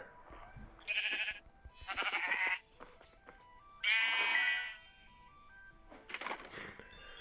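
Sheep in the video game Minecraft Earth give four separate bleats, each lasting about half a second, spaced out with short quiet gaps, clear and close with no talking.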